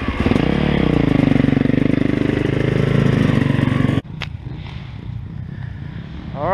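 A 450 four-stroke motorcycle engine runs loud and close with a steady throbbing note for about four seconds, then cuts abruptly to a quieter, rougher idle.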